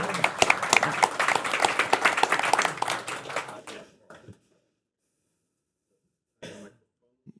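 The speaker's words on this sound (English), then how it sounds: "You can give him a warm round of applause, I think." Brief burst of applause and clapping from a panel-discussion audience welcoming a speaker, fairly close and dense for a few seconds, then tapering off into near silence with a short faint noise afterward.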